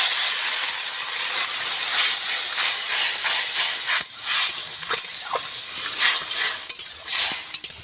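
Water poured into a hot pan of frying spices with tomato and mustard paste gives a loud, steady steaming hiss, with occasional utensil clinks and stirring scrapes nearby.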